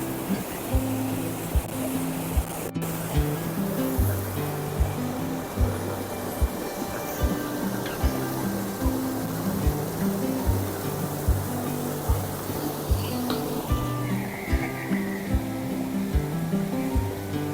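River water rushes steadily over a dam weir in Sagaranten, a loud continuous churning roar with faint pulsing rhythm and a brief sharp click early on, no speech.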